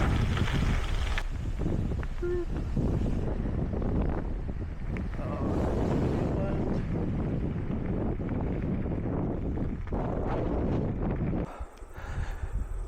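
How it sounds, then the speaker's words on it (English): Strong wind buffeting a microphone while cycling a gravel road on the Remutaka Rail Trail, a loud continuous low roar and rumble with gusty swells throughout. "And a lot of wind."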